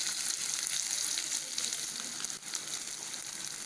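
Chopped curry leaves fry in hot oil for a vegetable biryani, a steady loud hiss and crackle filling the whole stretch with slight stirring, close to the pan.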